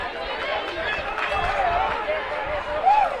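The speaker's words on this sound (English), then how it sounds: "a lot of purple-clad fans screaming and shouting" A packed college softball stadium where purple-clad fans scream and shout, a steady, excited crowd roar with rising cheers beneath a commentator talking over it.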